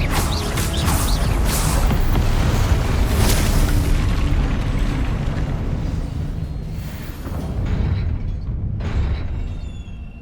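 A Confringo spell cast in Hogwarts Legacy, booming with heavy rumbling blasts and crackling debris, loud and dense at first, then settling into creaks and lighter pops as the noise thins out.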